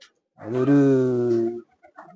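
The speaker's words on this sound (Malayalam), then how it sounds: "ഇവിടെ ഇതാണ് AK സ്റ്റാറിന്റെ പ്രാവ്" A pet pigeon gives one sustained, fairly loud tonal call lasting about a second, close by, followed by a brief spoken word.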